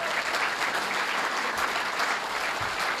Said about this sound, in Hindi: जोरदार हजी एक बार ताली आपने मारीए